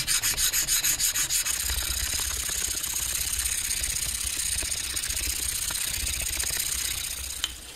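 A black stone is rubbed on a 400-grit whetstone to grind down to pink stone beneath, making a steady, close, gritty scraping in rapid back-and-forth strokes that runs throughout.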